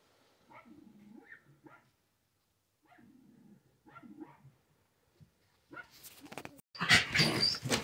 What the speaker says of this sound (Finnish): Koira haukkui